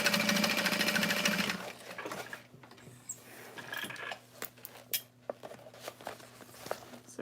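A sewing machine stitches across the bottom of a small bag in one quick burst of close, rapid needle clatter, then stops, leaving light taps and handling noises.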